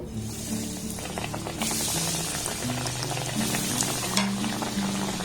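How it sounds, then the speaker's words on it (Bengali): Pieces of bread dipped in egg deep-fry in hot oil, a dense, bubbling hiss that holds steady and swells louder partway through, with faint tonal music underneath and no talking. "এবার এগুলোকে আমি তেলের মধ্যে ছেড়ে দেবো আর খুব ভালোভাবে ভেজে নেব"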